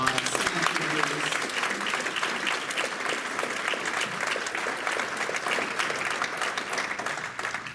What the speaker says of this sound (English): So I'd like to give Bruce one more round of applause.